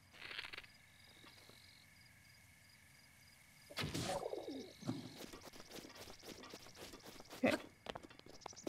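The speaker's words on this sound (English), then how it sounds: "Hey, another bird." In the video game Breath of the Wild, a bird's soft cooing calls rise from a quiet outdoor game ambience, with a few louder bursts and faint chirps mixed in.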